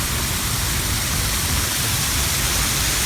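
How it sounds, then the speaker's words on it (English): Water splashing in a city fountain, a dense constant rushing wash, loud and close and unbroken throughout. "more fountains to jump in"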